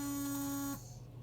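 A My Pet Command MPC625 long-range dog training collar gives a steady electronic buzz, loud and continuous, that cuts off abruptly after under a second, leaving faint background hiss.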